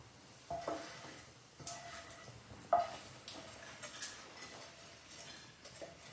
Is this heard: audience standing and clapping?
no